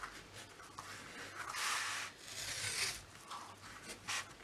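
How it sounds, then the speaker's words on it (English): Masking tape is pressed flat by hand onto paper for an accordion art journal, giving soft continuous rubbing and swishing strokes, close but quiet, in slow uneven passes. "just flattening the masking tape"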